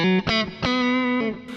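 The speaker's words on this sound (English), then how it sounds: "what you hear now is it's just reverb" An electric guitar played through a Kemper Profiler amp modeler with only reverb added, a few sustained distorted chords ringing with a lingering tail, alone and fairly loud.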